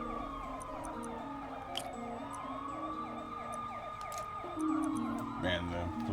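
Police sirens wail in a Marvel's Spider-Man video game street scene, steady repeating tones layered under game sounds and occasional clicks, fairly faint in the mix.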